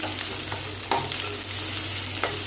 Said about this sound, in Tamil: இந்த வெங்காயம், அந்த பச்சை மிளகாய் இதெல்லாம் நல்லா வதங்கி வரும்.